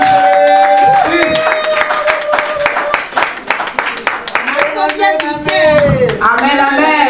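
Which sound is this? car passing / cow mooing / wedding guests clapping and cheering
wedding guests clapping and cheering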